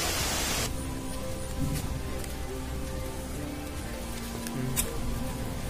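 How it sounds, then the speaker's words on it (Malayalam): Rain falls steadily outdoors, giving a continuous soft, even hiss of moderate loudness throughout, with no voices over it. "നല്ല അടിപൊളി മഴയാണ്, മഴയത്താണ് നമ്മൾ ഇൻട്രോ എടുക്കുന്നത്"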